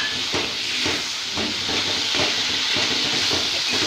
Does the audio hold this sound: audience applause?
no